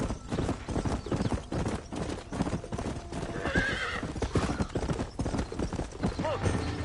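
Hoofbeats of a horse galloping in Red Dead Redemption drum in a fast, close, steady clip-clop with a brief neigh partway through, while voices talk over the hooves.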